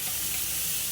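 Chopped onion sizzles steadily in melted butter with fennel seeds over a low gas flame, a close, continuous frying hiss with no voices.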